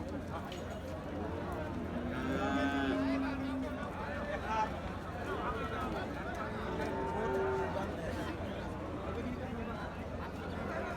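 A Gir or Sahiwal cow lows a few times, long drawn-out calls under steady nearby talking in a noisy outdoor crowd at a cattle sale.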